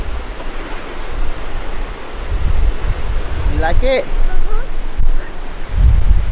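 A waterfall in a national park roars as a broad, steady rush of water, heavy wind buffeting the microphone, while a person speaks briefly over the noise.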